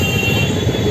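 A train at a railway station makes a continuous dense rumble with a metallic hiss above it, loud and steady through the short moment.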